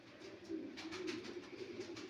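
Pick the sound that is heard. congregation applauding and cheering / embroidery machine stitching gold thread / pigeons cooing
pigeons cooing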